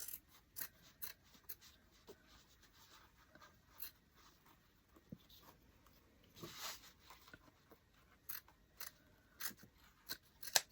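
Cardboard cut with scissors for carrot-shaped spring decor, heard as faint, irregular snips and rustles close by in a quiet room.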